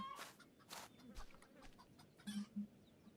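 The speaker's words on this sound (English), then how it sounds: "I swear I hear a chicken." A chicken clucking somewhere on a farm in Farmer's Life: soft, scattered short clucks and bursts at low volume amid faint background noise, with a couple of brief louder calls near the end.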